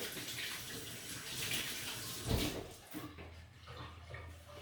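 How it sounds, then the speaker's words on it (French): Well water pours or runs, a close, steady splashing with a louder gush in the middle that then eases to a softer trickle. "Et c'est l'eau du puits, ça."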